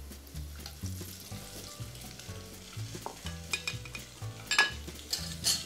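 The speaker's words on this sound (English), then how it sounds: "I'm going to drop some of these pieces in here. I'm going to fry this so that it gets nice and crispy." Prosciutto pieces fry in hot oil with a lively crackling sizzle, broken by repeated scraping stirs and clinks of a utensil against the pan, close and fairly loud with no voices.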